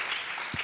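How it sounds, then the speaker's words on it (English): Applause at a health forum in Tanzania, a brief, dense wash of clapping from an audience, steady and moderately loud, with no talk over it. "A big round of applause for him."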